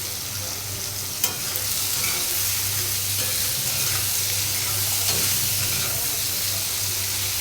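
Green chillies, spinach and pumpkin fry together in a pan for a Bengali palong shaak dish, giving a continuous close sizzling hiss with occasional scrapes and clacks from stirring, under a low steady hum.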